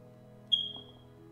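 A single short, high electronic chirp from a smoke alarm with a low battery, fairly faint and heard once over a quiet low hum indoors.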